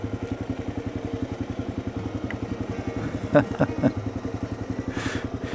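A Gen1 KLR650 motorcycle idles close by with a steady, even single-cylinder thump, and a few brief clanks and a voice come in over it.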